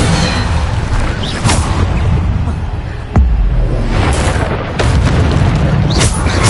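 A Bombarda explosion spell in the Hogwarts Legacy video game, a loud booming blast with a sharp burst near the middle, set among dense rumbling spell effects and battle noise.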